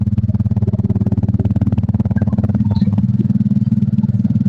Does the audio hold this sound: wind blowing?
no